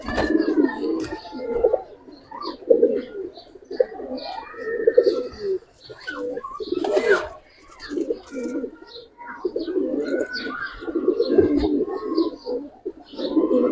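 A collection of Giribaz pigeons coos close by in repeated throaty, pulsing bursts, several birds overlapping with brief pauses between phrases.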